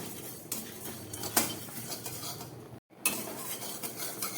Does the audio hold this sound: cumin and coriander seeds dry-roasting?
yes